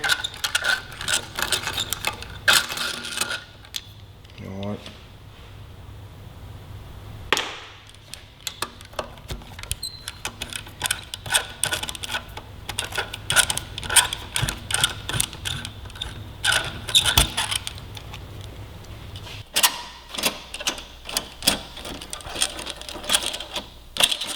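Metal bolts being loosened on a Yamaha R3 sportbike, unfastening the metal fuel tank from the frame: quiet clicks and ratcheting taps in irregular bursts, close by, with brief pauses between them.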